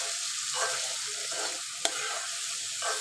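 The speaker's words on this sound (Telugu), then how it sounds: "సిమ్లో పెట్టి ఇది ఆయిల్లో మంచిగా ఇట్లా ఫ్రై చేసుకుందాము" Eggplant and tomato fry in oil in a pan over a low flame, giving a steady close sizzle with soft stirring scrapes and one sharp click.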